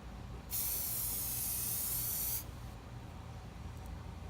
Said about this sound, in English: we're using metallic gold spray paint